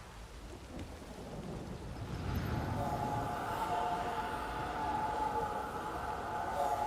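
Rain falls heavily in a Witcher 3 game scene while thunder rolls, starting softer then building into a loud, sustained downpour with a deep rumbling swell.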